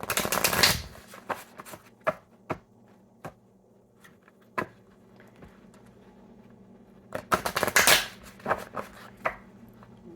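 Oracle card deck being shuffled by hand, a loud riffling burst at the start and another near the end with scattered single card taps and snaps between, close up with no talking.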